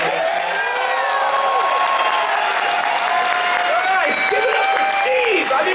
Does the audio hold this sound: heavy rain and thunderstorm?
no